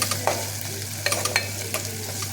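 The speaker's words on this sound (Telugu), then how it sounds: "ఒక ఉల్లిగడ్డ 4-5 పచ్చిమిర్చి ఒక చెంచాడు అల్లం తాలింపుకి వేసిన" Chopped onion, green chillies and ginger frying in hot oil as a tempering for fish curry, a steady close sizzle broken by several sharp scrapes of a spoon stirring the pan.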